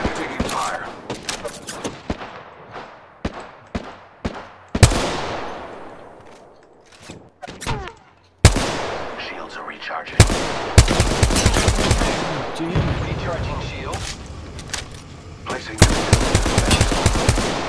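Enemy gunfire in a video game: rapid automatic bursts and single sharp shots cracking in clusters, some loud and close, others thinner, with gaps of quiet between volleys and occasional voice talk.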